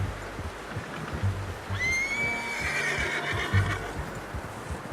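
A horse in the video game Red Dead Redemption 2 whinnies once, a clear rising and falling neigh over a low rumbling outdoor background with a few soft thuds.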